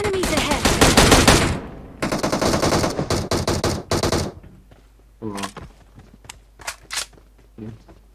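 Rapid bursts of automatic gunfire from PUBG Mobile, two loud clusters of fast shots followed by sparser single cracks and short bursts as the firing thins out.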